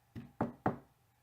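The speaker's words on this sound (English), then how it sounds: "a knock so quiet and stealthy as to be scarcely audible, sounded on the front door" Three soft knocks on a front door, evenly spaced within about half a second, quiet and alone with no voices around them.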